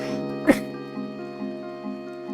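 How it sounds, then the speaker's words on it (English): A single sharp, close sneeze bursts out near the start, over a steady background of tonal game music that carries on afterward. "I have to sneeze"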